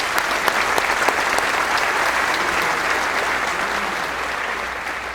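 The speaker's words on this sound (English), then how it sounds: "So I applaud all of you tonight" Warm, sustained audience applause at the Ellis Island Medals of Honor ceremony, dense and steady clapping from a large crowd that tapers off gently toward the end.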